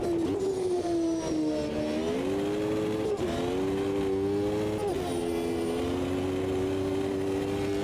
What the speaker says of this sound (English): I love the sound of the cars in the distance.